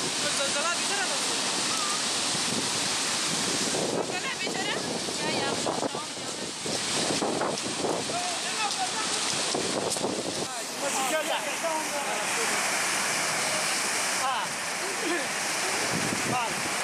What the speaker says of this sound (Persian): ببینید آب چجوری رفته تو خونه‌های مردم، مردم رو فلج کرده